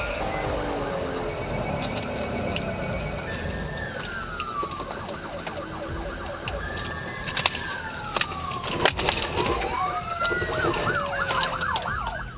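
Police sirens wailing during a high-speed chase through city traffic, rising and falling wails from more than one vehicle, shifting into rapid yelp cycles toward the end, loud over traffic noise.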